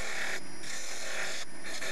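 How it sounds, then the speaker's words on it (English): A spindle gouge turns a spalted silver birch bowl blank on a Record Power CL3 wood lathe, giving a continuous loud hissing scrape with a slight pulsing rhythm as the tool cuts. "Using a combination of a half inch spindle gouge and a quarter inch spindle gouge, and here I am just sizing up for tenon"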